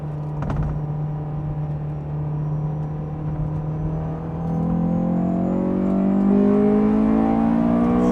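Honda S2000 sports car engine revving hard while driving through turns, a steady rumbling drone that climbs in pitch as it accelerates, heard from inside the car without speech.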